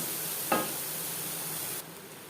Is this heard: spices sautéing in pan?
yes